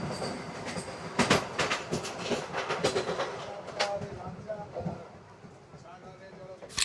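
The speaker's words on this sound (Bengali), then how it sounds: "এই মুহূর্তে কিন্তু একটা বন্দে ভারত পাস করে গেল।" A Vande Bharat express train rushes past a moving Kanchanjangha Express on the Sealdah–Guwahati line, a dense, loud rolling roar with rhythmic wheel clatter and bursts that fade toward the end, with voices mixed in.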